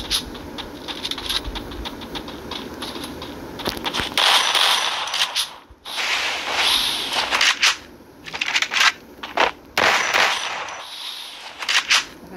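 Gunfire in the video game Free Fire, repeated rapid bursts and single shots of varying loudness across a busy stretch of gameplay with brief pauses between volleys.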